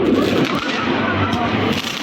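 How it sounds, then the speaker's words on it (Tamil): New Year fireworks and gun-fired bangs in Nuremberg, Germany, a dense run of loud sharp cracks and booms layered over a constant outdoor rumble, with a voice speaking over parts of it. "டப் டப் டப்னு சரியான வெடி வெடிக்குது."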